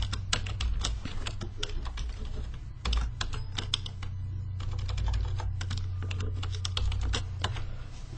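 Fingers type on a computer keyboard in a continuous run of close, crisp key clicks with brief pauses between bursts, a quiet electrical hum underneath and no speech.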